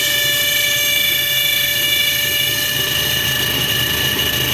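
A noisy water pump on a 1.2 16V car engine whines steadily while the engine idles, giving a loud, constant broadband hum with sustained high tonal whistles, close up and without talk.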